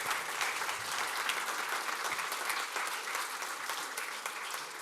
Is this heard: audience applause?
yes